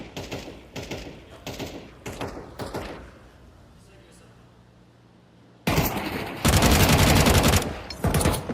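Counter-Strike match gunfire: several close rapid shots and bursts at first, a lull, then a loud sustained spray of automatic fire, with a commentator speaking over parts of it.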